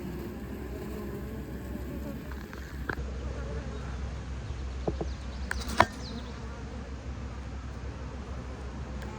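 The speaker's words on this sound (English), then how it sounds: "I like that there's a decent amount of bees in here too." A steady, low hum of many honeybees buzzing in an open hive fills the air, with a few faint clicks and knocks over the continuous drone.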